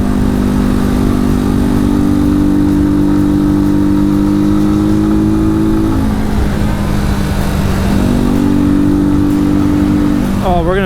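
A Janus Phoenix 250 motorcycle engine drones loudly and steadily on a test ride, its pitch sagging and then rising again as the rider shifts and accelerates, with heavy wind rush throughout.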